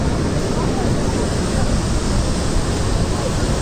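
Bogita waterfall roars as a loud, steady broadband rush of falling water, continuous and close for the whole stretch with no pauses.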